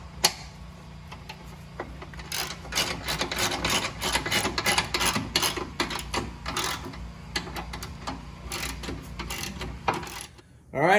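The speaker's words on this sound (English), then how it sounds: "then you're going to tighten them down with a 19mm socket" Ratchet driving a 19mm socket to tighten engine mount bolts on a Fiat 500 Abarth, a long run of rapid, close clicking strokes in uneven bursts.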